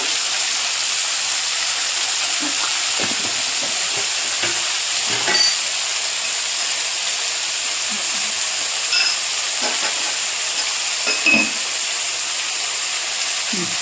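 Dal and cumin seeds frying in hot oil for ustikaya pickle, a loud, steady, hissing sizzle that runs throughout, with a few faint scrapes and taps of a ladle in the pan, close by and without talk.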